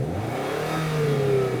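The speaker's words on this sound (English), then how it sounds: "Right, I'm going to rev this one up." A BMW M car with a V8 engine revving, the pitch climbing smoothly as the revs rise in one short, fairly close pull with no voices over it.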